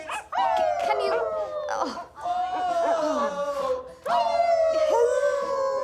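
A dog howls and barks loudly in long, wavering bursts with yips, repeating after short pauses, while a voice speaks over it.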